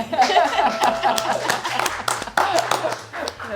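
A crowd applauds and cheers at an evening show, with scattered claps, laughter and chuckles mixed in and talk running over the top.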